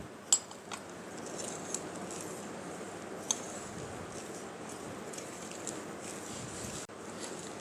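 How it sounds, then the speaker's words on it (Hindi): Flour, grated coconut, sugar and baking powder are stirred together in a bowl for basbousa, a soft steady scraping and rustling with a few light clinks of the utensil against the bowl. "मैदा और बेकिंग पाउडर। ये डालकर इसको आप मिक्स कर लें।"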